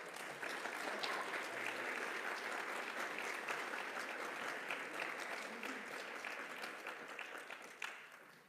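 An audience at Unity of Dallas gives steady, sustained applause to welcome speaker Melody Brooke, many hands clapping evenly before it tapers off at the end.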